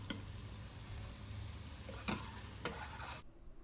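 Small dollops of beetroot-leaf pakora batter frying in hot oil, a low steady sizzle marked by a few sharp clicks of a utensil, ending in sudden quiet.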